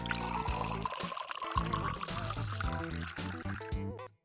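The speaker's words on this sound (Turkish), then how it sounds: "İçeceği şişeye dökelim." Strawberry and lemon drink pours into a bottle in one continuous, gurgling stream lasting about four seconds, close and alone, the tone shifting as the bottle fills.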